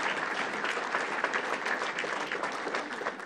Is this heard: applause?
yes